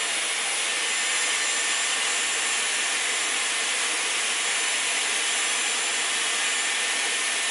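Dyson Airwrap hair styler blowing hot air onto the ends of the hair, a loud continuous airy rush that holds steady throughout, close up and with no talking.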